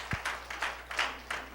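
A church congregation claps in slow, rhythmic unison, five or six evenly spaced beats in quick succession, fairly close and moderately loud.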